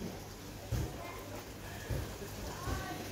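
Rain falls steadily outside a house in Thailand, a constant hiss with a few heavier thuds of drops, and no voices.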